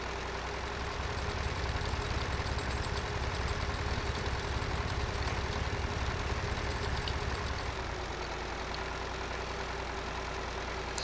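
A tractor engine in Farming Simulator 2013 runs at a steady idle with a low rhythmic throb, heard alone and fairly even throughout, easing slightly near the end.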